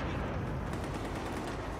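Rapid, continuous gunfire from an Ace assault rifle fired from the hip in a shooter video game, a dense loud burst filling the whole short stretch with no talk over it.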